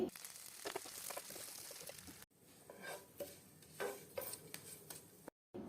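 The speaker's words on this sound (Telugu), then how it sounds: "ఇప్పుడు ఇదే పాన్లో మరో టేబుల్ స్పూన్ ఆయిల్ వేసి వేడి చేయండి మునగాకు వేసి ఫ్రై చేయాలి" Moringa leaves frying in a tablespoon of oil in a pan, with soft sizzling and repeated scraping stirs of a spatula, fairly quiet, with talk mixed in.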